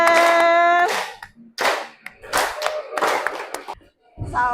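A classroom group claps hands during an ice-breaking activity in several loud, separate bursts with short pauses between them; a voice is heard at the start.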